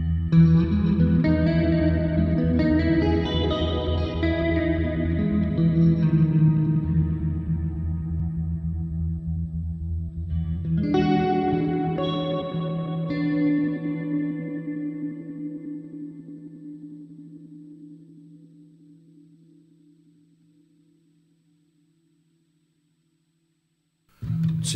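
An ambient guitar preset on a Sonicake Matribox multi-effects unit rings out as dreamy chorused, echoing chords, one strummed swell and then a second that fades slowly into a long reverb tail and silence.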